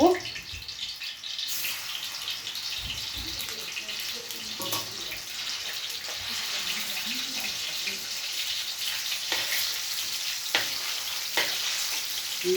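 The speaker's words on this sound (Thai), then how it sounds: "เดือดแล้วเราใส่ทีละสามลูกด้วยครับ" Pork fish cakes (tod man) drop three at a time into boiling oil and deep-fry with a steady, close sizzle and bubbling, broken by a few clattering knocks, with no talk.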